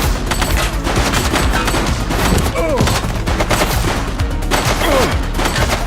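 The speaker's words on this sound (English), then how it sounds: "Shots fired!" Rapid bursts of automatic gunfire and single shots crackle through a police shootout in the video game The Precinct, loud and dense over game music, with voices calling out between volleys.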